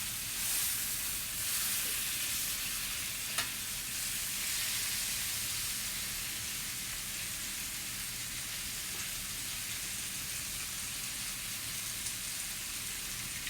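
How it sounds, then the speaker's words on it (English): Lamb chops for a ginger garlic glaze sear in a hot pan, giving off a steady, close broadband sizzle and hiss that holds evenly throughout with no talking. "I just want it to sear. I just want it to brown."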